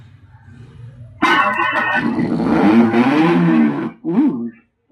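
A car engine start and rev, likely played electronically by a car-shaped Moto Groove Bluetooth speaker: a quiet hum, then a sudden loud surge of rising and falling revving tones, a brief dip and a short final burst.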